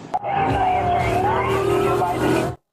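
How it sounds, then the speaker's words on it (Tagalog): A police car siren wails continuously as the vehicle arrives, loud and close, its pitch sweeping slowly up and down for a couple of seconds before it cuts off abruptly. "nagmamadaling dumating ang kanyang supervisor na may ilaw at sirena"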